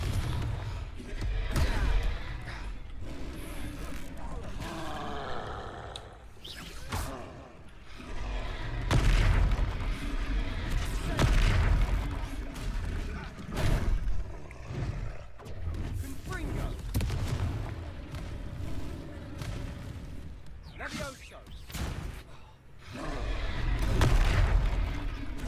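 Repeated Confringo blasting spell explosions in the Hogwarts Legacy video game, dull thumping booms recurring throughout a busy battle, mixed with shouted voices and combat noise.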